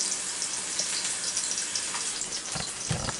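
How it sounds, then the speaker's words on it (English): Tap water running steadily into a pot, filling it up to the marker line, a continuous hiss of flowing water with a few louder splashes near the end. "I fill the water up to right where they tell me to fill it."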